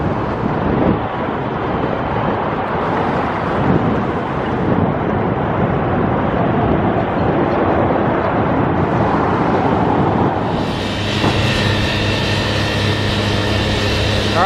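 A power saw cuts at the Las Vegas Raiders' Allegiant Stadium construction site. Breezy wind and broad site noise fill the scene, and a loud, steady tonal whine with harmonics starts near the end and holds close by.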